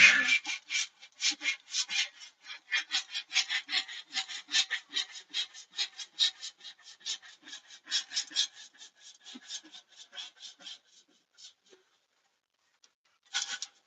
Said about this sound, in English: One hand sawing.